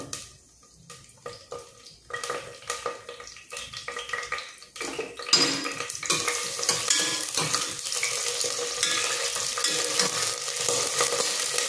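Whole spices and a bay leaf sizzle in hot oil in a pan for mutton soup, starting with scattered pops and crackles, then swelling into a loud, steady, close frying hiss.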